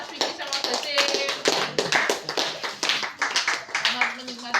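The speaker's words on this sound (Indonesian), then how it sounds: "Tepuk tangan buat kelompoknya Mas Vicky sama Basim." Classroom applause for a student group during a practice teaching session: a few seconds of scattered, uneven hand clapping from a small group, with voices talking over it.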